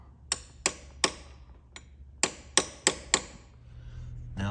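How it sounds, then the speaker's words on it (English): A 13mm socket tapping a metal part on a 2016 Kia Sorento during engine repair: about nine light, sharp metallic knocks in an uneven rhythm, close and clear, with no talking. "Okay, just got a 13mm socket. Just gonna give it a little tap."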